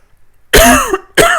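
Two harsh, throaty coughs or throat-clearing bursts, close and loud, separated by a short pause.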